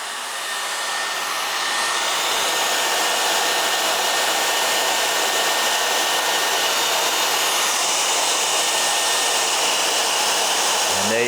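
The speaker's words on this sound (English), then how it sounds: "Just gonna take a second for the hairdryer to warm up." A hair dryer blows steadily and close for several seconds, a constant loud whoosh rising as it starts up, heating Greenland wax on Fjallraven Vidda Pro trousers.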